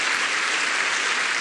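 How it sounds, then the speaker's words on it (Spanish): Congregation applauding at a church service, a steady dense wash of many hands clapping at close range, loud and continuous with no voices above it. "podemos darle un aplauso al Señor por ellos"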